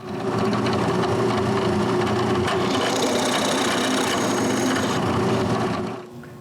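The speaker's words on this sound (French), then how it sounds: "je perce des trous pour les ressorts qui vont pousser ces barrures" A drill bores holes in wood for springs, giving a loud, steady whirring grind of bit through timber that runs for several seconds, then stops.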